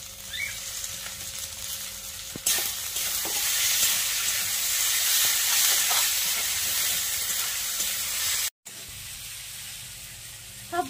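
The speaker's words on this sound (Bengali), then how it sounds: "এবারে দিয়ে দেব কুচিয়ে রাখা টমেটো" Chopped tomatoes hit hot oil in a goat head curry and break into a loud, sustained sizzle that holds for several seconds, then cuts off abruptly and returns more quietly.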